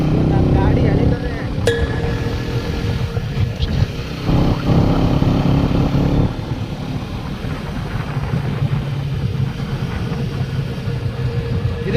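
A new motorcycle's engine runs steadily and loudly up close, a continuous low rumble throughout with slight shifts in tone.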